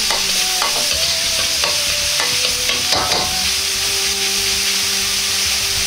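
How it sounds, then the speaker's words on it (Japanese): Curry ingredients with turmeric being stir-fried in a pan, giving a steady close sizzle and frying hiss with repeated scraping and stirring strokes throughout, no voices. "混ぜ合わせるように炒めます。"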